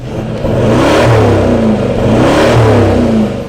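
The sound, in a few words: SUV aftermarket exhaust revving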